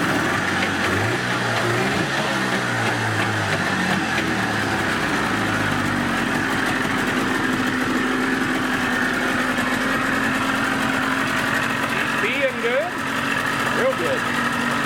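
A 30 HP Evinrude outboard motor runs steadily after a pull start, a loud continuous engine drone throughout, with voices talking over it.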